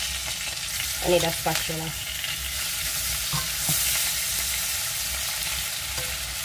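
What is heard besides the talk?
salmon fillets frying in a pan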